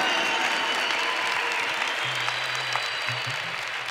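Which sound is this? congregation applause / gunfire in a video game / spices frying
congregation applause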